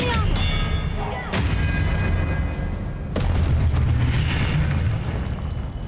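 A spell cast in the video game Hogwarts Legacy bursts out with loud boom-like blasts, two sharp broadband hits over a dense rumbling game soundscape, with a voice shouting the incantation.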